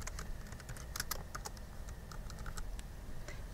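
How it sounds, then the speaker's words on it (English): Fast, steady typing on a computer keyboard, entering a signature into a PDF document in Adobe Acrobat XI: a continuous run of close, light key clicks with irregular rhythm and no voices. "I'll go ahead and type it today."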